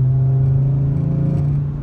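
Steady, loud car engine drone with the exhaust resonator removed, a deep hum holding constant throughout and easing off slightly at the end, no talking.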